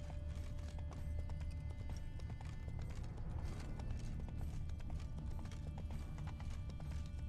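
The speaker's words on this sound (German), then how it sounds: "Die Pferde müssen durchgegangen sein." Horse hooves clop rapidly and continuously in The Witcher 3, a galloping rhythm at moderate distance and fairly quiet, with faint mechanical rattles mixed in and no speech.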